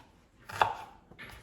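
A knife cuts onion on a board in one short, soft chop near the mic, followed by a fainter second cut, with quiet surroundings.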